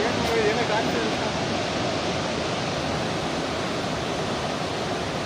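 Lushington (Unchalli) waterfall near Sirsi and Siddapura produces a constant, dense rushing roar that stays even and unbroken from start to finish.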